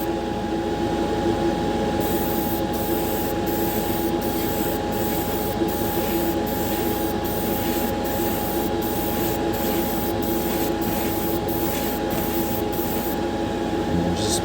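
An aerosol spray can hisses paint in a light first coat onto a Hot Wheels car, a close, continuous spray interrupted by brief regular pauses.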